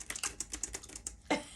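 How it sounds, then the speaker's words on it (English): Rapid clicking keystrokes on a computer keyboard, close and crisp, in a brief irregular burst ending with a heavier key press. "the way this computer types reminds me of that"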